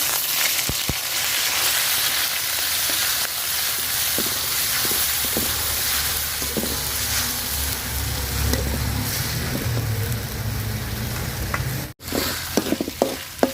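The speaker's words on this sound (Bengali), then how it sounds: "তেল গরম হয়ে গেছে আমি এখানে পেঁয়াজ দিব না ওই যে বাটা মশলাটা পুরাটা দিয়ে দিব" Ground spice paste fries in hot oil in a pot for a Bengali fish and tomato curry, with a loud continuous sizzle, intermittent stirring scrapes and a brief pause near the end.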